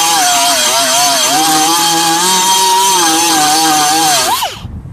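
Angle-head air die grinder from an XtremepowerUS kit, running steadily with a loud, high whine that spins down near the end, alone without talk.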